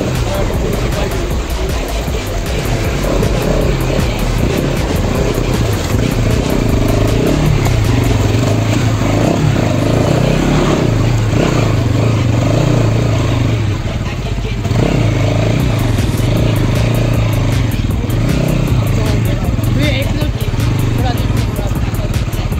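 A motorcycle engine runs steadily throughout a ride, with loud continuous rumble, wind buffeting and clatter, staying close and constant without clear revving peaks.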